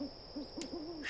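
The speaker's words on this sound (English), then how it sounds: "That's going to attract rats and owls. Bloodthirsty owls." An owl hoots in the video game Dreamfall Chapters, a run of four or five soft, wavering hoots at a steady pace over a faint hum, with no talk.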